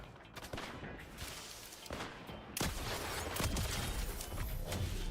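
Rapid bursts of gunfire in the Fortnite battle royale game, loud and dense throughout and growing heavier in the second half, with no talk over them.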